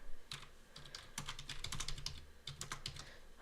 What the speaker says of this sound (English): I'm just going to type something so it's not so empty and sad.